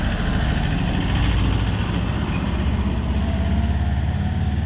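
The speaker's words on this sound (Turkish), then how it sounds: "Bu patpatı Harun abi sattı onlara" A patpat motor vehicle engine runs with a steady, low, chugging rumble at moderate loudness, holding constant without voices for several seconds.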